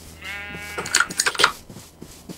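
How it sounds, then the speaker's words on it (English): Several sheep bleating in the video game Minecraft, a burst of overlapping nasal bleats close by, loud and alone over a faint background. "a load of sheep spawn"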